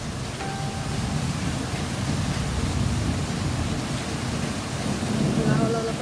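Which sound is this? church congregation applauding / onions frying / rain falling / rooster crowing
rain falling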